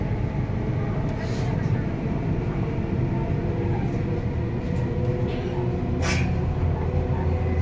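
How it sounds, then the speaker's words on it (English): Constant rumbling roar of a moving Sydney train from inside a carriage, steady throughout with faint brief squeals and hiss over the drone. "We are taking a train and we are going to Central Station."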